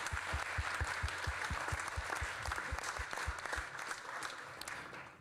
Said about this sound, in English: Just one more clap, please, because I want really to thank them.